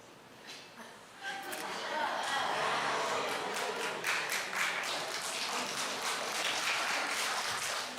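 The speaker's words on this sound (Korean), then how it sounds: "사과 쪼개고 박수 받아보니까" A preacher splits an apple apart by hand in front of a church congregation, and the crowd answers with sustained, dense clapping that swells quickly and holds steady.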